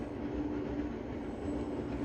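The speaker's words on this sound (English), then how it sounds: "Sorry, trains running by my house. It's kind of noisy." A train passes by a house in a faint, continuous rumble. A thin steady wheel whine runs under it, distant and without any voices.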